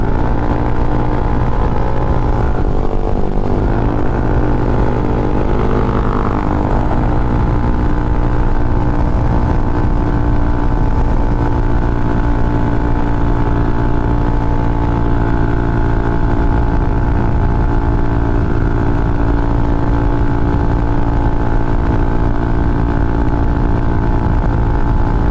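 A Yamaha NMAX V2 scooter climbs a steep uphill road toward Monasterio de Tarlac, its engine droning loud and steady throughout, with wind rush close to the rider and no voices.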